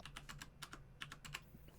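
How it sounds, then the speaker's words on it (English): Rapid clatter of keys on a computer keyboard, about a dozen crisp close taps in quick irregular bursts, alone over a low hum. "Ignore my typing for now."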